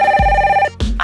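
A telephone rings for a radio call-in, a close, loud electronic trill with a short gap before the next ring starts.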